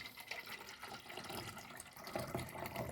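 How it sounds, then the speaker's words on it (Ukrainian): Water poured steadily into a container while mixing fertilizer for hydrangea cuttings, a continuous close splashing trickle that swells in the final second, with no talk. "Знову я наливаю водичку."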